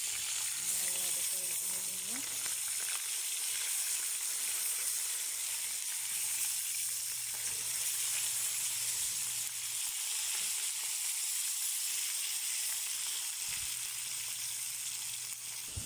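Fish fries in hot oil in a pan, a steady bright sizzle and hiss running continuously and fairly faint, with a voice speaking quietly underneath at times.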